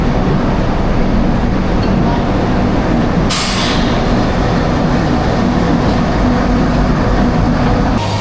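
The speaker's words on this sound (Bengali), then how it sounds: "নির্ধারিত টাইম থেকে আমাদের ট্রেন রওনা দিল হাওড়া স্টেশন থেকে হরিদ্বারের পথে।" A sleeper-class train pulling out of Howrah station bound for Haridwar gives a steady, loud rumble of wheels and carriages, with a brief brighter hiss partway through and no clear talk.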